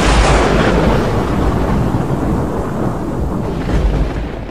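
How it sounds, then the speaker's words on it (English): A forest campground in a storm: heavy rain roars in a dense, steady wash, and a deep rumble of thunder rolls loudly beneath it throughout. "Uh-oh, it's raining."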